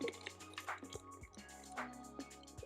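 Fig and ginger frozen yoghurt mixture is scooped into a Ninja Creami Deluxe container, giving quiet, soft wet squelches and light scraping over a faint steady hum.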